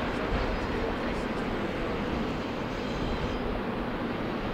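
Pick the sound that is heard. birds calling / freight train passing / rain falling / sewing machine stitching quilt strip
freight train passing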